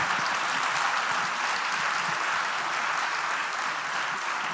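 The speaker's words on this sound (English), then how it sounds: "a round of applause to all of them" A conference audience applauds steadily, a dense wash of clapping that stays even and loud from start to finish.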